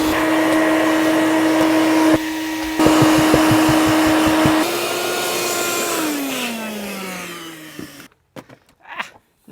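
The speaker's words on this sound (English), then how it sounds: "I'm gonna go vacuum it again with a little brush to be able to agitate all the dirt." A vacuum cleaner with a brush attachment drones loudly with rhythmic bumps and scrapes as it works over a truck's carpet, then winds down and stops, leaving a few scattered knocks.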